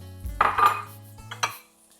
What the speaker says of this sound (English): So I'm gonna add the carrots